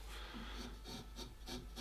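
Flat chisel paring across a carved wooden puppet head, leaving a slight hollow, with short rhythmic scraping strokes repeated about six times, close and quiet.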